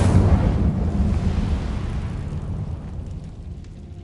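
A fire spell cast in Hogwarts Legacy, a loud, deep roaring whoosh of flame that fills the clip and slowly fades, with no talking.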